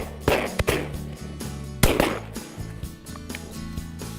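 Shotgun blasts at ducks during a river duck hunt: two sharp, loud reports a moment apart, then a third after a short pause, ringing out over steady outdoor background.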